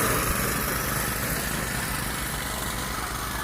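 A tractor engine runs steadily close by, a loud, continuous mechanical drone that holds an even level throughout with no voices over it.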